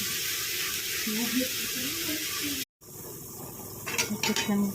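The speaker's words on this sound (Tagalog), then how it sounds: "Tapos konting tubig." A little water being poured into vegetables cooking in a pan, a steady close rush of liquid and sizzle under continuous kitchen noise, with a brief cut and some clatter toward the end.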